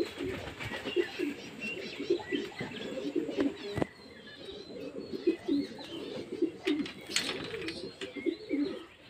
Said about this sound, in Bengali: দেখা যাক আজকের পায়রা কেমন ওড়ে